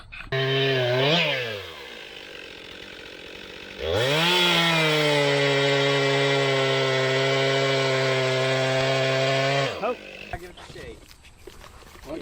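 A chainsaw revs loudly, dips, then roars steadily for several seconds as it cuts before cutting off, with voices heard around it.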